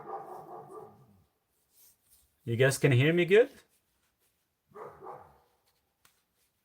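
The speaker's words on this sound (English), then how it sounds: "He's just barking." A dog lets out a loud, close run of barks and whines in the middle, with a person talking briefly before and after.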